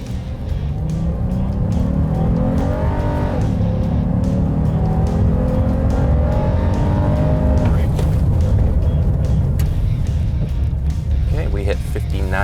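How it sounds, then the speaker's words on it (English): A 2017 Honda Ridgeline pickup truck accelerates on asphalt, with steady engine and road noise rising in pitch as the truck gains speed; loud and continuous from inside the cabin, with a faint voice over it. "now we're going to transition to the asphalt section where we can do a little bit of acceleration and braking tests"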